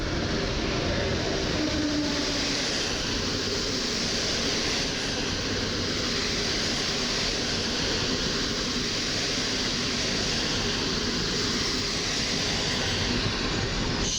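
An Intercity Górski train rolls steadily past Warszawa Zachodnia station, a continuous loud rumble of wheels and carriages on rails lasting throughout, with a brief squeal and no talk.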